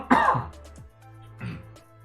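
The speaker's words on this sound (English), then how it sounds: "Excuse me while I cough." A man clears his throat and coughs: a rough, close throat-clearing burst, then a second shorter cough after a pause, alone.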